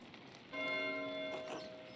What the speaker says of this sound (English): Why is Matthias ringing the bell?